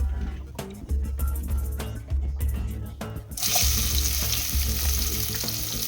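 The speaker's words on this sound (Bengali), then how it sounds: "উচ্ছেটা আমি ভেজে নেবো" Bitter gourd pieces fry in hot oil for shukto, with a close, steady sizzle and scattered clinks and scrapes of stirring; the crackle swells to a louder, brighter hiss midway through.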